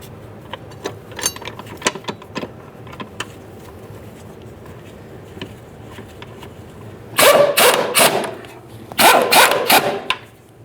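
A ratchet tightens the upper shock absorber mounting bolts on a 2011-2021 Jeep Grand Cherokee 3.6L V6, first with scattered soft clicks, then two loud, close bursts of rapid ratcheting.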